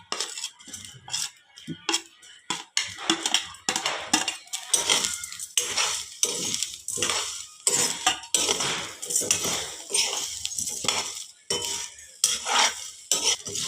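Potatoes frying in a pan on low flame, with steady metallic scraping and clinking of a spoon stirring against the pan throughout, fairly close and with no talking.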